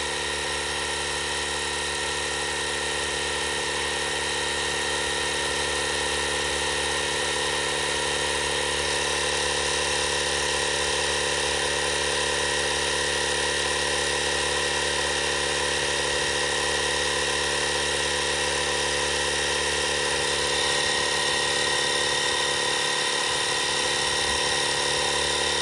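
Lasfit portable tire inflator pumping up a Polaris Xpedition tire, a steady droning motor hum with a constant whine, unbroken and close for the whole stretch, no voices.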